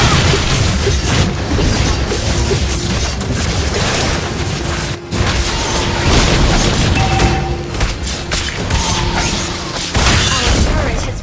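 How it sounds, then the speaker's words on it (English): Turret destruction explosion in the mobile game Mobile Legends, booming bursts buried in a dense, continuous mix of battle effects, with an announcer's voice speaking over the action. "Our turret has been destroyed."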